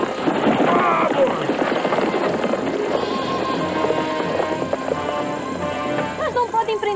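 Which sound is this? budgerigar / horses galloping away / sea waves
horses galloping away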